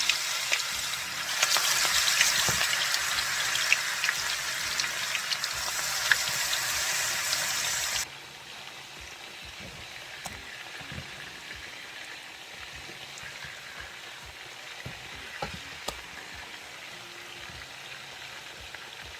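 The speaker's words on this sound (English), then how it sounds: "I have my frying pan on the stove with the oil. It's hot, and I'm just going to add the pork and brown it" Pork chops drop into hot oil in a frying pan on the stove and sizzle loudly for several seconds, then the frying settles to a quieter steady crackle with scattered pops.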